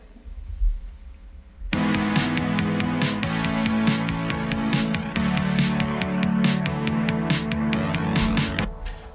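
Prophet 5 polysynth chords ride over a DMX drum machine beat, with sharp regular hits pulsing through a sustained synth bed. It starts after a quiet lead-in and ends abruptly, with no talking.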